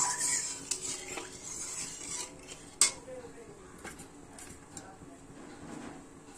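A spoon scraping and clinking against a metal pot as a small-fish curry is stirred, with one sharp clank near the middle, and quiet speech underneath.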